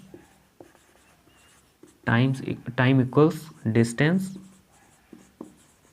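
A formula is written by hand in faint, scratchy strokes, partly masked by someone speaking in Hindi.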